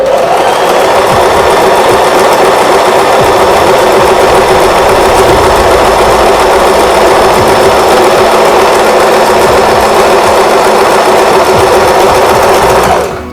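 A Singer Start 1306 sewing machine runs steadily, its needle stitching a zigzag pattern in a loud, continuous mechanical whir that keeps an even rhythm from start to finish with no talking.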